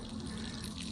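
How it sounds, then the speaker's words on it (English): Tap water runs in a steady, even stream, a continuous close splashing hiss with a faint low hum beneath it. "Turn the water on, let it run"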